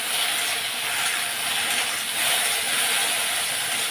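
Okra seasoned with salt and turmeric frying in hot oil, giving a loud, steady broadband hiss with no pauses and no talking.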